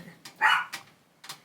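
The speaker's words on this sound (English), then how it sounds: "You have to ignore my dog." A pet dog at home gives one loud, sharp bark, followed by a few fainter yips and huffs spread across the moment, with no talking over them.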